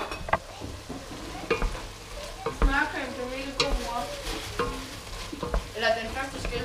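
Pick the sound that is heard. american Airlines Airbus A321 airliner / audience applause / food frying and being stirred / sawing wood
food frying and being stirred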